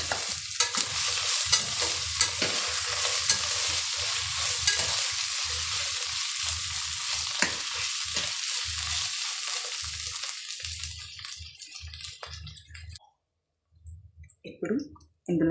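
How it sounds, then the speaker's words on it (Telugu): Chicken biryani masala fries in a pot while a spoon scrapes and stirs it, giving steady sizzling with clicking strokes for most of the time, then the sizzle drops out near the end and a few faint sounds remain. "ఒక 1 minute ఇలా వేయించుకుందామండి. ఇప్పుడు ఒకసారి కలుపుకుందామండి."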